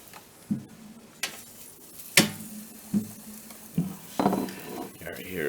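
T-bone steak cooking in an air fryer, with soft sizzling under a series of sharp clinks and scrapes of utensils and pan handling at irregular intervals.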